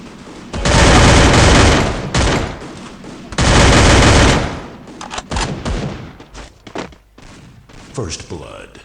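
Bursts of heavy automatic gunfire from a shooting video game, two long loud volleys followed by scattered single shots, with players talking excitedly over the action.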